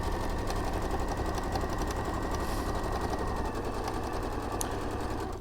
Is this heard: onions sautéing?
no